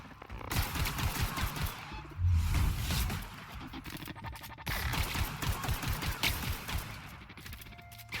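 Gunfire in the video game The Outer Worlds: dense bursts of shots and rapid automatic fire crackle across the whole stretch. Loud volleys swell and ease without a break.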